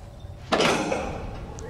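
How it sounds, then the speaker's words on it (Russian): A fuel pump in a basement switches on in the horror game Outlast, a sudden loud mechanical burst that starts abruptly and then settles into a steady rumbling drone. "Бензонасос."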